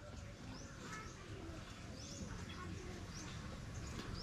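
Pigeons coo inside a pigeon cage, a soft, steady murmur of low calls running through the whole stretch amid faint bird chirps and rustling, with someone talking quietly nearby.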